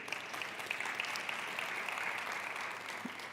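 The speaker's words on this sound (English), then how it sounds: "another round of applause for all our strategic partners." Audience applause at a cultural investment conference, a steady, even clatter of many hands clapping together, sustained throughout at moderate distance.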